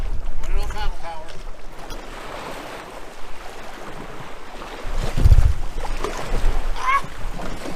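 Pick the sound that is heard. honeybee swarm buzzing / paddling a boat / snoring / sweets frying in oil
paddling a boat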